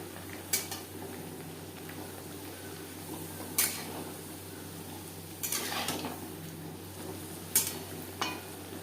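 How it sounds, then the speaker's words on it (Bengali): Luchi bread deep fries in hot oil with a faint, steady sizzle, while a few sharp metal clinks and scrapes of a utensil come at intervals. The sound is quiet and there is no talking. "চানা মশলার সাথে সার্ভ করার জন্য লুচি ভেজে নেব"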